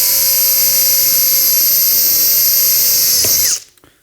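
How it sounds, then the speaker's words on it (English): A power drill bores holes through metal, whining loudly with a steady high pitch before slowing and cutting off near the end, with no talking. "I think I can drill all 3 holes across the middle."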